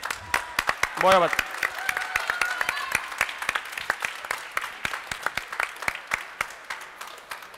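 Applause for a chef at the close of a cooking competition: a brief shout, then steady, fairly sparse claps from a modest crowd, with a few words spoken over the start.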